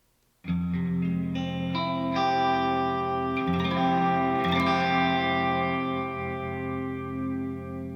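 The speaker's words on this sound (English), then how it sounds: "it is called a minor major 7." A single sustained electric guitar minor major seventh chord in Drop C tuning, strummed once and left ringing with heavy chorus and effects, fading slowly over several seconds.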